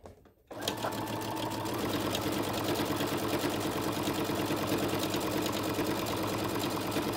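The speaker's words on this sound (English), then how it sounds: "that's about as fast as I like to sew" A sewing machine stitching a rod pocket for a quilt starts up after a brief pause and then runs steadily at a fast, even rhythm, close and unbroken, with no talking.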